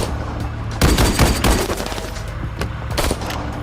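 A shootout erupts between police and drug-cartel men in the film NARC, with loud bursts of rapid gunfire and scattered single shots ringing out against a tense background.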